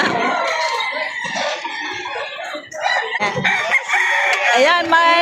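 A rooster crows loudly and close at a livestock auction market in Padre Garcia, Batangas, with clucking fowl, other crowing birds and people talking nearby throughout.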